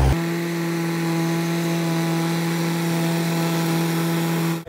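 A tractor-driven machine grinds material fine for brick-making at a brick kiln near Dimapur, giving a loud, steady, even mechanical drone with a constant hum that runs unbroken throughout.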